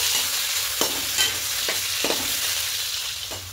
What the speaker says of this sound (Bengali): এখানে পনিরগুলোকে ভেজে নেব।